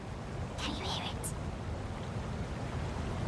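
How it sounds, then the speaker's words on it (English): A river flowing toward a waterfall in the Lord of the Rings Gollum game, heard as a steady broadband rush of water, moderately faint and continuous throughout, with a brief higher splash early on. "We hear the river."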